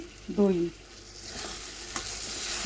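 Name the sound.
yogurt being stirred into frying masala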